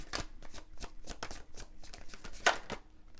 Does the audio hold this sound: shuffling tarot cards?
yes